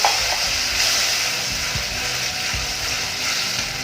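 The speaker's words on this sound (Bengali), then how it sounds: "আর এর মধ্যে দিয়ে দেবো আমি টমেটো পেস্ট। দিয়ে ভালো করে মিশিয়ে নেব।" Tomato paste is stirred into chicken curry frying in a pan, giving a loud, continuous close-up sizzle with scraping stirring noises running through it.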